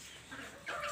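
Chickens, three-month-old chicks raised with their mother hen, cluck and chirp softly nearby, getting a little louder near the end, with no one talking.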